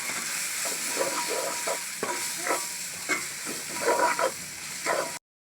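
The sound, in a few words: stirring curry masala powder frying in oil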